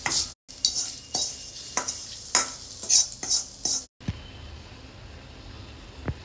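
Cumin, urad dal, chopped garlic, a dried red chili and asafoetida are stirred in hot oil for a spinach dal tempering, giving a soft sizzle broken by repeated clinks and scrapes of a spoon against the pan.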